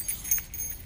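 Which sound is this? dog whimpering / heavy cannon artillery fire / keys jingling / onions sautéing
keys jingling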